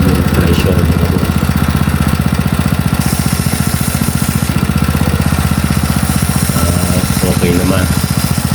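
A portable water pump fitted with an upgraded impeller housing runs loud and steady, a continuous buzzing engine drone with brief talk over it.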